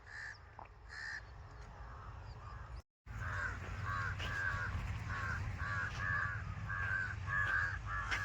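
Loud, harsh crow caws repeat over and over, several birds calling close by in a busy, overlapping chorus after a brief pause.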